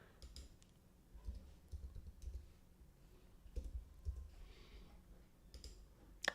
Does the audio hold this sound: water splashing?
no